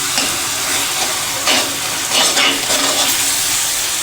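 Tomatoes cook down in a pan for moong dal fry, a steady close sizzle and hiss with a few louder bursts as a spoon stirs through them.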